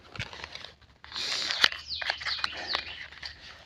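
Small birds chirp and twitter outdoors in a lively cluster of short tweets, starting sparse and faint, then swelling into busier, overlapping calls.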